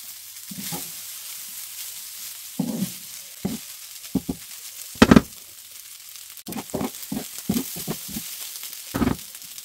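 Vegetable fried rice cooking Chinese style with butter and egg in a pan, a soft background sizzle broken by repeated stirring scrapes and clatters in irregular bursts, with no talking.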